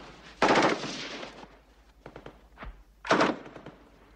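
Gunfire from a war film erupts in two loud bursts of shots separated by scattered thuds and lower impacts, close and forceful with no speech.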